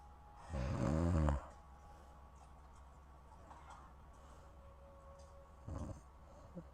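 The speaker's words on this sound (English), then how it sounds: "Josh, I love your cat. I love the fact that he snores." A pet cat snores in a burst of loud, rough snore roughly a second long, followed by quiet and then a second, fainter snore near the end.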